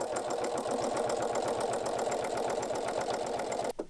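A sewing machine runs steadily, stitching down the long edge of fabric scraps for a Christmas decoration with a fast, even mechanical rhythm, close and loud, ending with a brief stop.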